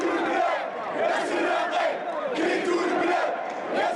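A large crowd of protesters at a Hirak demonstration in Algeria, young people, families and elderly among them, chants in loud rhythmic waves, a continuous dense mass of voices rising and falling together.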